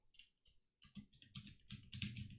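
Keys tapped in an irregular burst on a computer keyboard while a name is entered, starting with a few sparse clicks and then speeding into dense, close, steady typing with no talk.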